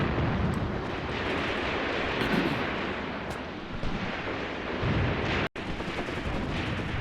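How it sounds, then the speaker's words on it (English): Pak guns and a machine gun firing in Graviteam Tactics, an Eastern Front battle scene: a dense, continuous roar of distant artillery and gunfire with rumbling blasts, then an abrupt cut near the end. "those pack guns are still firing"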